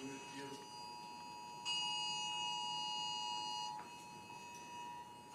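A steady electronic cell phone emergency alert tone with several layered pitches sounds continuously, jumping louder for a couple of seconds midway, with faint background noise beneath.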